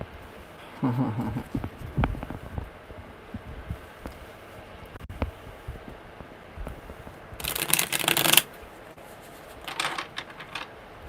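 Tarot cards shuffled by hand give a few bursts of papery riffling and flicking, the longest and loudest near the end, spread between quieter pauses.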